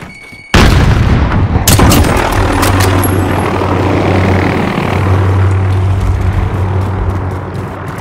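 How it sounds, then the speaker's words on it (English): In a Call of Duty: Modern Warfare multiplayer match on St. Petrograd, a grenade goes off in a loud, close boom, followed by scattered gunfire cracks over a sustained low rumbling drone. "Grenade out!"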